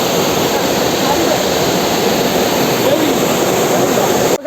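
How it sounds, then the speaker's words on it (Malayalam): Thoomanam Para waterfall roars as a loud, steady broadband rush of falling water close by, constant throughout with no breaks. "അപ്പം ബാക്കിൽ വെള്ളം ചാടുന്നുണ്ട്."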